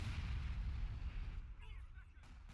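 Dense gunfire and mortar fire from a World War II strategy video game set around Bayeux in the Battle for Caen, a continuous loud rumble of blasts and rattling machine-gun bursts that thins out slightly toward the end.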